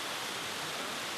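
Cascading water at Huangguoshu waterfall roars in a constant, dense wash of sound, close and unbroken.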